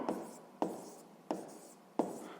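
A pen writes on paper in four evenly spaced scratchy strokes, each starting with a sharp tap and trailing off into a soft scrape, close and quiet.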